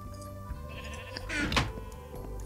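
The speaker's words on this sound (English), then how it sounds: "let's go shear some sheep" Sheep bleating in Minecraft, a loud blocky game bleat rising in the middle of the clip over a steady hum of background tones.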